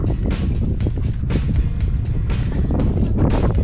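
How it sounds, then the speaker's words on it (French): A salvaged boat engine on Marie-Galante running steadily and loudly, a continuous close rumble with rhythmic chugging pulses and wind noise over the microphone. "On a sauvé le moteur. Voilà, ça marche."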